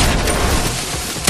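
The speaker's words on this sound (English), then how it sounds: "Let's get close though and use the new HAVOC Pump Shotgun." The HAVOC pump shotgun in the video game Fortnite goes off as a dense, loud blast of gunfire filling a short burst, close and heavy with no talk.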